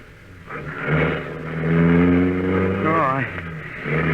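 A car engine revs up and pulls away near a barn, its steady drone climbing in pitch before easing off, with a voice shouting sharply over it partway through.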